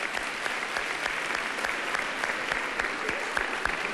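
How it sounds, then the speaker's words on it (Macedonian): A studio audience at a Macedonian Idol gala claps for contestant Ivica, dense continuous applause from a large crowd at steady moderate volume throughout. "Уште еден аплауз, Ивица"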